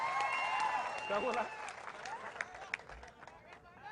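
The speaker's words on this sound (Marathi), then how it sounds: "नितेश राणेंचं टाळ्या वाजवून जरा अभिनंदन करा" A crowd at a political rally claps, producing faint, scattered applause mixed with murmuring and a speaker's voice, all quiet and distant.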